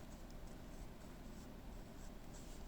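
A Kanwrite Ultraflex steel fountain pen with a triple extra fine needlepoint nib writes on paper. It gives a faint, steady scratchy rasp with small repeated strokes, close up, and no voices.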